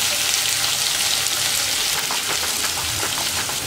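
Onion and green chili fry in oil in a paniyaram pan with a dense, constant crackling sizzle and faint scattered pops, close and loud.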